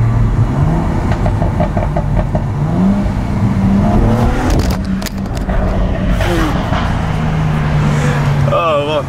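Car accelerating hard through a very small tunnel in Rotterdam, engine revving and rising in pitch through the gears, loud and reverberant, with someone talking over the engine noise throughout.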